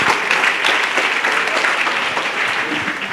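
A congregation at a church gathering claps together in sustained, dense applause. It is loud and steady from start to finish, with no voices above it.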